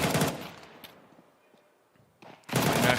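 Mag-7 shotgun blasts in Counter-Strike, with a sharp burst at the start, faint game sounds in between, and another loud blast at the end.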